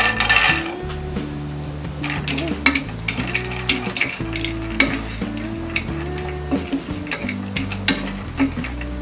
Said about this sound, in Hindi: इसमें हम काजू फ्राई कर लेंगे